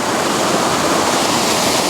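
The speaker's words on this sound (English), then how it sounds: "the waterfall is kind of at a bit of a strange angle" Steady, close rush of a waterfall pouring over rocks amid autumn woodland, a dense unbroken roar with no voices.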